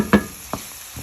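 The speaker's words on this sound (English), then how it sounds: "Mix the eggs properly and make sure it's cooking as well." Eggs being mixed and cooked in a pan for a wild vegetable breakfast, with two short scraping stirs over a low, faint sizzle.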